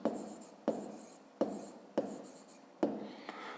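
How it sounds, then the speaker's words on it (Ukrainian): A pen scratches across paper while an answer to a fifth-grade math exercise is written down, in soft close strokes broken by five sharp taps at regular intervals. "Записуємо відповідь."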